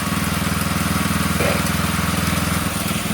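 A small four-stroke engine idles steadily close by, a loud, even, rapid chugging pulse that holds for the whole stretch with no talking.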